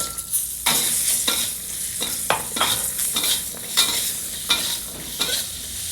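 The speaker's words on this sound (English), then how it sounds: "Let's give our green beans a bit of a saute here in the wok for about a minute." Green beans sautéing in a wok with asafoetida, a continuous loud sizzle punctuated by repeated scraping tosses of a utensil against the pan at a regular pace.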